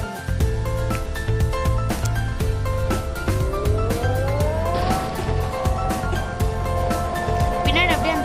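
A car engine in the video game Indian Theft Auto, revving with a rising pitch sweep and repeated sharp bursts, loud and continuous, with a voice talking over it.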